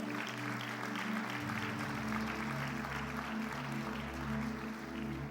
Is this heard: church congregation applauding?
yes